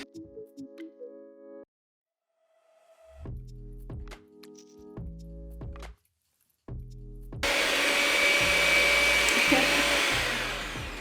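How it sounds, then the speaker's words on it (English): An electric hand mixer beats margarine for cupcake batter in short bursts, whirring on and off with pauses between, then running steadily louder toward the end, close up and with no talking. "remember with the electric mixer, you must start mixing on like the lowest level"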